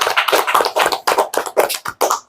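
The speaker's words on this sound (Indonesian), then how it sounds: "boleh tepuk tangan nih sekali lagi teman-teman" A small group claps hands in a rhythmic series of about nine loud, close bursts, each sharp clap cluster separated by brief gaps, with no talk.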